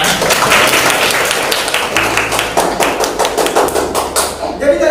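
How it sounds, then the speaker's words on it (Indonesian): Clapping from a class or small audience during a teaching lesson, loud and close, with a spread of distinct hand claps that thin out toward the end as a voice starts to speak. "Tepuk tangan buat kita semua."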